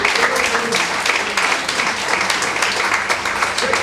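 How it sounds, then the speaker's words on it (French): A church congregation applauds, a dense, steady wash of many hands clapping that fills the room at full volume from start to finish, with some voices mixed in. "Acclamons les Seigneurs pour ces choses."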